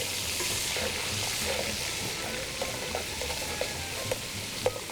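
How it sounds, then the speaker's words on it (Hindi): Ground ginger and garlic frying in a pan for chicken nihari, a steady close sizzle with light stirring scrapes and small clicks, no talk. "चलेगी पिसा हुआ अदरक और लहसुन, थोड़ी सी भुनाई होगी जी इसकी।"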